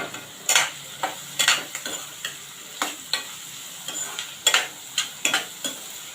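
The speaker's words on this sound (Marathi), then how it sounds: "आता आपण कांदा घातला आहे कांदा चांगला मऊ होईपर्यंत आपण त्याला परतून घेऊया" Onion sautés in a pan for a Marathi wild-greens dish, with a utensil scraping and tapping repeatedly as it is stirred over a soft, faint sizzle, close by and without voices.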